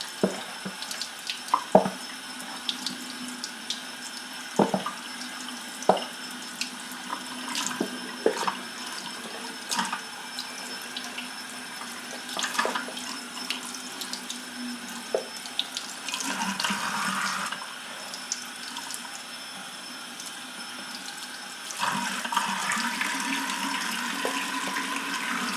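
A sink tap runs water onto watercolor paper, with splashes and clunks scattered throughout and louder gushing stretches near the middle and toward the end. The sound is close and no one speaks.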